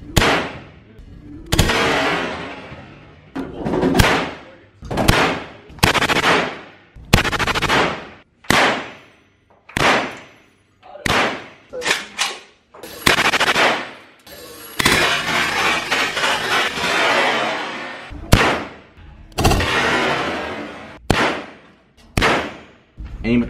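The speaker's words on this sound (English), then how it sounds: "next one you guys are gonna shoot. The Colt 9mm." Colt 9mm fired at an indoor shooting range, a series of loud sharp reports at irregular intervals, some in quick pairs, each with a short reverberant tail.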